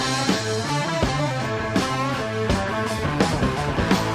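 A main riff on electric guitar with band backing, a punchy, syncopated run of heavy notes played loudly and continuously.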